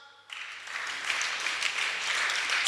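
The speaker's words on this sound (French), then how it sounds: "On acclame." Applause from a church congregation starts abruptly after a brief quiet moment and swells into a steady, dense clapping from many hands, loud and continuous to the end.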